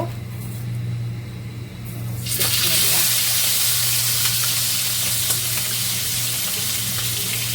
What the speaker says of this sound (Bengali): এখানে মাছের মাথা হলুদ লবণ মরিচের গুঁড়া দিয়ে মেখে রাখছি এখন ভেজে নেব